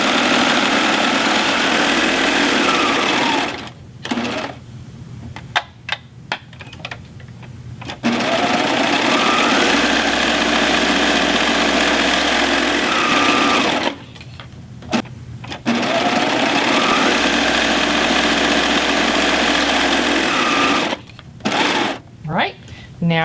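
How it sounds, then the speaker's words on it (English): A serger sews around the edges of a fabric face mask, its motor buzzing in long, loud runs of several seconds that are broken by short pauses as the fabric is repositioned. "So I'm going to take it to the serger and serge around all the edges."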